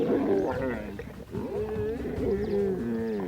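Male lions roaring during a clash, deep, rough, drawn-out roars overlapping in close succession, loud and near, with a brief lull midway.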